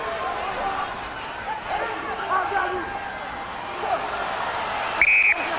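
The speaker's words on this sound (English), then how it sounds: "And the whistle." A referee's whistle at an international rugby match between Tonga and the USA Eagles, one short shrill blast near the end, heard over steady crowd noise and commentary.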